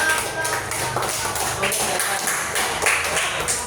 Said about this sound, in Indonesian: Tepuk tangan untuk kelompok 1 yang sudah